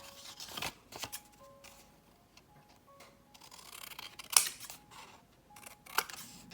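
Scissors snip the corners off a 12x12 paper pocket folder in short, separate crisp cuts with papery rustling between them, close and fairly quiet.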